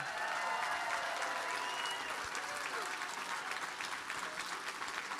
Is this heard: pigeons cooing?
no